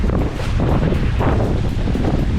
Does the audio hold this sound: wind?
yes